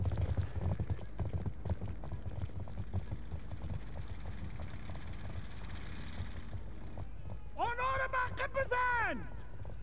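A horse galloping in the video game Call of Duty: Black Ops 2, steady rapid hoofbeats under game ambience, ending with a loud whinny near the close.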